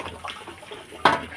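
Water flowing into a rocket stove cooking setup, a thin uneven trickle and splash running throughout, with a louder gush near the end.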